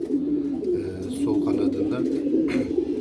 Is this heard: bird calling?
yes